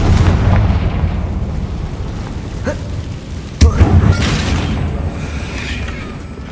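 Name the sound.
Confringo spell explosion on a bridge, Hogwarts Legacy video game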